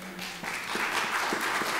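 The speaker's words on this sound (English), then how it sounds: "everyone, can you give them a round of applause?" Audience applause, a short burst of scattered clapping from a small group, fairly soft and building briefly.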